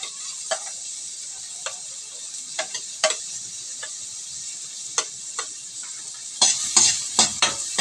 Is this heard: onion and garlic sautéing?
yes